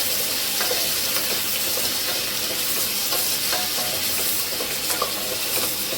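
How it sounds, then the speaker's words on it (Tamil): Three medium onions sauté in a pan for tomato rice, making a continuous loud sizzle with steady stirring and scraping throughout. "நல்லா வதக்கிக்கோங்க மூணு வெங்காயம் போட்டிருக்கேன்"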